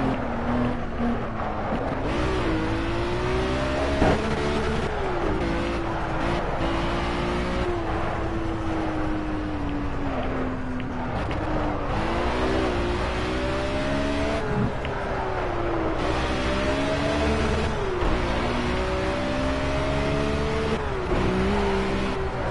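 A racing car engine in Project Cars revs hard through repeated gear changes, the pitch climbing and dropping in a steady cycle of acceleration and shifts, loud and close.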